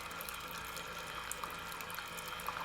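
Black coffee pours from a coffee maker as a faint, steady trickle under soft background hiss, with no talking.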